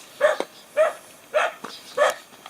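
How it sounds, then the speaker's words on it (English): A guard dog in a Philippine village barks four times in a steady rhythm, close and loud, with brief quiet gaps between barks. "Here's a local guard dog."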